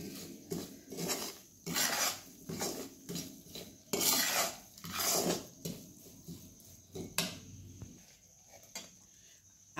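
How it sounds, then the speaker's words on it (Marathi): Chivda masala roasting in hot oil in a pan is stirred with a metal spoon, rhythmic scraping and clinking strokes repeating every second or so, close but fairly quiet, with no voices. "सगळं एकत्र मिक्स करूनच मग भाजायचं चांगलं भाजतंय बघा मिक्स करून घेऊया सगळं"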